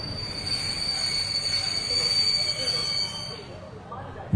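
A steady rumble of a train rolling along the tracks, with a high metallic whine running through it, fading slightly toward the end.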